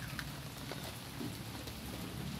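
Heavy rain pouring steadily onto a garden with planted crops and banana plants, a dense, even hiss of drops on leaves and surfaces, moderately close and continuous, with no voices.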